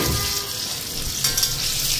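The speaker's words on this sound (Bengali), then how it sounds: "এইদিকে বড়াগুলিও ভেজে নিতেছি, কিছুটা ভাজা নামাইছি" Bengali boras, or fritters, bubble and crackle in hot oil with a loud, continuous frying hiss that stays close and even throughout.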